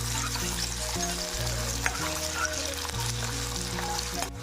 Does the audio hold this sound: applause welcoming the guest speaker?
no